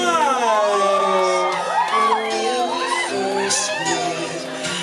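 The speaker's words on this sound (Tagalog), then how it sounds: "Tingin ang malakas na hiyawan!" Wedding guests at Erick and Cristina's reception cheer, whoop and shout loudly together, a dense crowd roar with rising yells over continuous voices.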